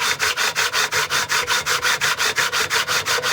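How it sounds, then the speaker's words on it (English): Sandpaper is rubbed by hand across a thin exotic wood veneer held down by a wooden block, making about two dozen steady, even back-and-forth strokes, close and loud. "Just a couple dozen strokes of the sandpaper on there."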